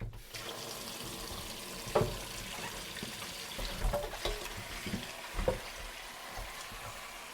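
Cold tap water runs steadily into a sink while groceries are rinsed, a continuous faucet hiss broken by a few splashes and clunks of items being handled, fairly quiet and close.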